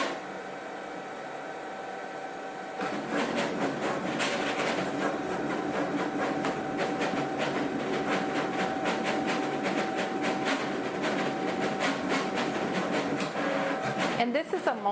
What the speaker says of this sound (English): And then I just press go. And I want you to notice how fast this machine is.